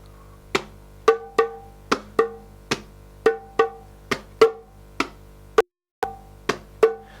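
A drum is struck in a steady alternating low-high pattern, about a dozen crisp, close hits at an even pace, with one brief pause before the rhythm resumes.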